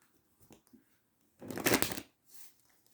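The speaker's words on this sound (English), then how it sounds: "I've already shuffled, but I will do one more shuffle, just to be sure." A tarot deck being shuffled: a few light taps, then one quick riffle with a burst of fluttering cards, close and quiet.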